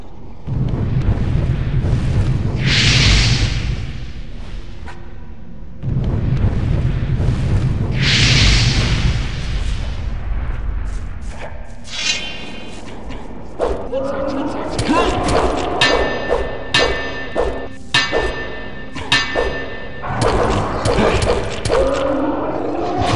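Repeated bomb blasts with spreading splash damage in the medieval fantasy game Gothic, during a fight with Templars: two big booming explosions early on, then a rapid string of sharp crashing impacts. A voice talks over them.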